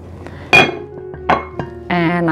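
Frozen sweet peas, corn and carrots tipped into a bowl of cubed potatoes for a dairy-free potato salad: two or three sharp clattering knocks and clinks, then a voice speaks over a light rustle.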